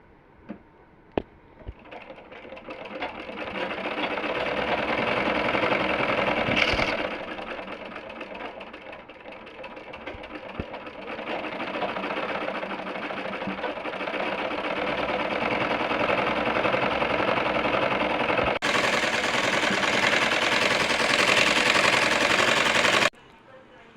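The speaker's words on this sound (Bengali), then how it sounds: "রাবাট লাগানোর জন্য কোমরের সাইডে প্রথমে চিকুন করে একটা সেলাই দিয়ে নিচ্ছি" A sewing machine stitches the waistband of children's pajamas made from leftover fabric, running close and steady in a long continuous whir after a few brief starts, with a sharper mechanical tone near the end.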